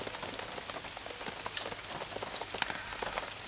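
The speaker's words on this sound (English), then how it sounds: "And they love the rain." Steady rain falling on the surface of a lake at a carp fishery, a dense even patter of drops with occasional sharper splashes nearby.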